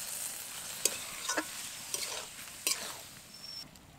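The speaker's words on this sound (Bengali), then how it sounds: "এবার সামান্য জল দিয়ে এটাকে ভালো করে নেড়ে নেব।" Vegetables coated in spice paste are stirred in a pan with a splash of water, giving a faint crackling sizzle and several sharp spoon scrapes against the pan, close up with no talk.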